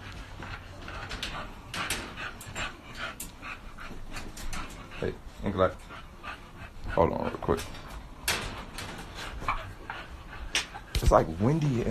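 A large dog pants and lets out soft whimpers close by, with a person talking over gusty wind noise.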